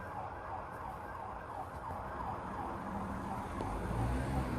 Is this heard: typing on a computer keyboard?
no